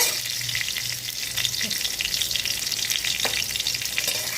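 Ground taro leaf paste with garlic, green chilli and kalonji frying in a pan, a loud dense continuous sizzle with occasional stirring scrapes, heard up close and without voices.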